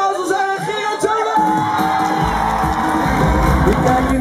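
A crowd at a record-store signing session in Hoogvliet cheers and whoops for a singer, with music swelling underneath; the sustained, loud crowd noise builds steadily over the few seconds.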